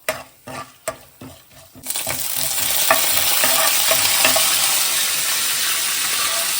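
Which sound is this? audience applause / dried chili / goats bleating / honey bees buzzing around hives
dried chili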